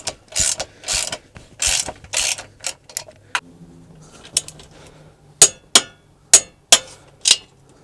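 A ratchet tightening bolts, quick bursts of sharp metallic clicking followed by a pause and then several loud, evenly spaced single clicks, close by with no talking.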